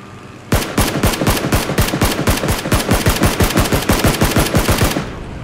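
Sustained automatic gunfire in PUBG, a rapid, steady stream of loud, close shots firing for about four and a half seconds without a break, then stopping abruptly.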